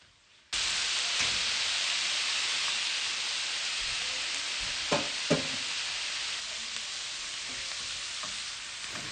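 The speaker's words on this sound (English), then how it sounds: "a common process known as deglazing" Loud, steady sizzle of a hot pan being deglazed after seasonings, butter and lemon juice go in, a broad hiss starting abruptly and holding for about nine seconds with a couple of brief louder spits midway.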